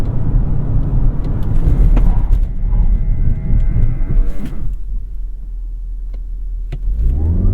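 Hard stop in a 2022 Lexus NX 350h hybrid during a brake test, a loud low rumble of road and tyre noise with a long droning tone that fades as the car slows, no talking.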